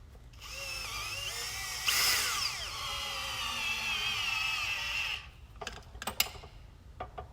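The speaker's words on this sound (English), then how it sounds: "These are just self-tapping, so there's no threads. It just, once it gets going, it locks in there." A power drill drives self-tapping screws into an OMT base, a steady high whine for about five seconds with a brief surge partway through, then stopping, followed by a few sharp clicks and taps.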